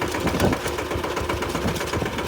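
A tractor engine runs steadily nearby in a village, giving a continuous low, knocking rumble with an even chug and no voices over it.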